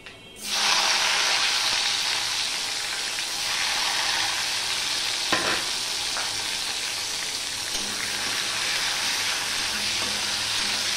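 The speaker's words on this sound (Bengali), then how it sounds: "এখন ফোড়নে আমি দিয়ে দিচ্ছি" Chopped tomato tipped into hot oil tempering for a vegetarian Bengali dal, setting off a loud, steady sizzle that holds for about ten seconds, with a faint stir or scrape midway.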